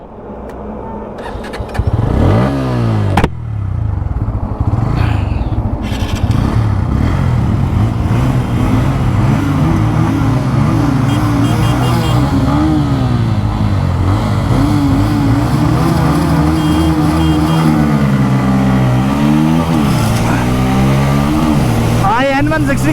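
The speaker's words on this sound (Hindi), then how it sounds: "मैं चलाऊंगा यूएसडी वाली N160 और आर के भाई चलाएंगे अपनी अपाचे" A Pulsar N160 with USD forks and an Apache 160 2V are in a drag race, their loud single-cylinder engines revving hard and rising through the gears up close, with the pitch falling and climbing again at each shift.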